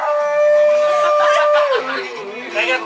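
A dog howls in a long sustained tone that slides downward and breaks off, with people talking over it in Portuguese.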